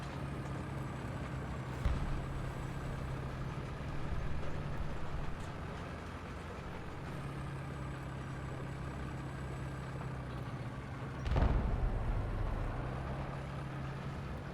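A tank engine from a War Thunder-style battle, with a T-62M-1 in play, rumbles and idles steadily throughout, with a low droning hum. Two louder bumps stand out, a brief one early and a stronger surge near the end.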